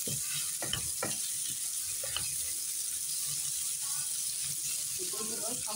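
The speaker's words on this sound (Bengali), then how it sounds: "দিয়ে দেবো মরিচ, মশলাটা হচ্ছে ভালো করে ভেজে নেব।" Chili and spice paste with turmeric sizzles steadily in a pan while beef bhuna is cooked. Sharp scraping stirring strokes break through the constant frying hiss.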